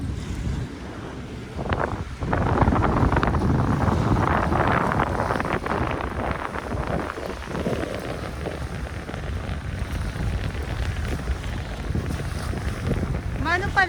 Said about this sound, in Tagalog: Kung maingay, ipagpaumanhin niyo po dahil medyo malakas ang hangin.